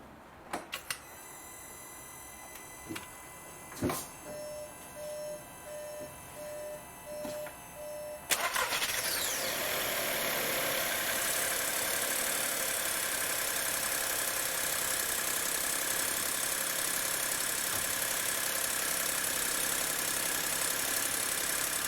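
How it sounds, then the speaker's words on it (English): A 2018 VW Golf 1.0 TSI automatic: a few soft clicks and knocks, then the engine catches about eight seconds in and settles into a steady, close idle that runs on to the end. "I'm gonna run the engine for 5 minutes and then let it settle for 5 minutes and check it again"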